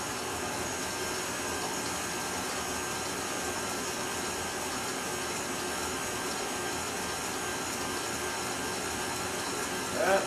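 A mixer running on a low setting as it churns chocolate ice cream base, a steady, loud, unbroken whirring drone that continues throughout.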